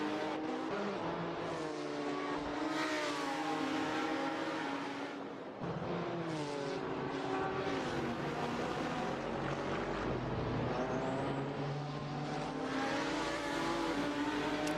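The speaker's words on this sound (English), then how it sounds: "It's such a distinctive noise from that Lamborghini, obviously." A Lamborghini race car's engine roars in a racing video game at the Portimão circuit, rising and falling steadily as the revs climb through gear changes, loud and continuous with no voices.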